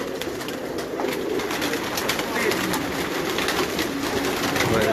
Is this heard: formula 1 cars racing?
no